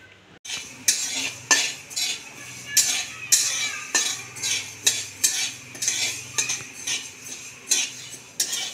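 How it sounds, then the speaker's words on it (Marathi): Urad dal dry-roasting in a kadhai, a spatula scraping and knocking against the metal pan in a regular rhythm of repeated strokes over a faint rustle of the lentils. "आता कढईमध्ये उडदाची डाळ भाजून घेऊया."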